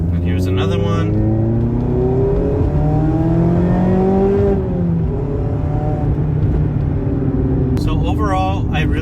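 Supercharged Mazda Miata ND2 fitted with a MiataSpeed Edelbrock supercharger, engine revving steadily with rising and falling pitch throughout, close and loud, with brief talk at the start and end.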